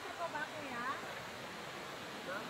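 A river on the way to a Japanese cave makes a faint, steady rushing wash beneath quiet talking voices.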